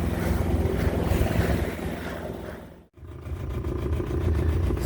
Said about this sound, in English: a little patch of wind here right on the corner